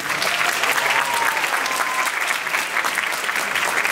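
An audience applauds dancers after a performance, with steady, dense clapping filling the room for several seconds at a consistent, fairly loud level.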